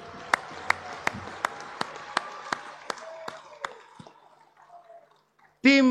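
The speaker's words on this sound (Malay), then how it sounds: "Kita berikan tepukan gemuruh untuk skuad Sabil," An audience at an UMNO general assembly claps in slow, sharp unison beats that fade out over a few seconds, followed by a sudden loud tonal burst.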